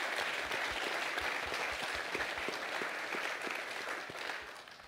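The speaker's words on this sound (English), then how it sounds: "A round of applause for Morgan, if you will," At a sports media summit panel, the audience claps for a panelist, a fairly quiet spread of individual claps that gradually fades.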